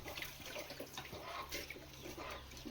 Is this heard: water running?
yes